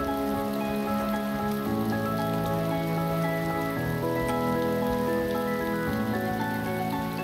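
Steady rain falling in the video game DayZ, a dense even patter on surfaces lasting throughout, layered over sustained droning musical tones with no voices.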